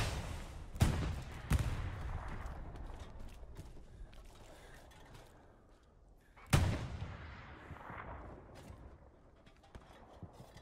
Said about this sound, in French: Il y a le tir de canon là, il y a tout.